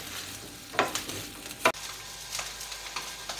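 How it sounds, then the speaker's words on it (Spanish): Tomatillos and chiles roasting in a pan for green salsa, a soft low sizzle broken by a few sharp clacks and knocks as they are moved around. "Y siguen ahí nuestros tomatillos, chiles, asándose, cociéndose."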